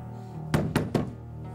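Three loud, evenly spaced knocks hammer on a door in a tense dramatic scene, standing out sharply against a steady low hum.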